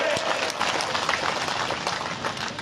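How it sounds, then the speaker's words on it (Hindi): A crowd at a Maharana Pratap Jayanti gathering claps for Bhupendra Singh Mohanda, a steady wash of moderately loud applause heard from some distance with a voice in the mix. "भूपेंद्र सिंह जी मोहंडा के लिए एक बार जोरदार तालियां हो गए"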